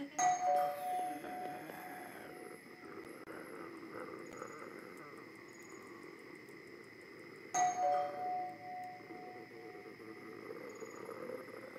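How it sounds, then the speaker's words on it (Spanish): A doorbell chimes twice, some seconds apart, in a Peruvian zombie action film scene, a clear two-tone ring over a low quiet room hum, with no voices. "Santito es el timbre."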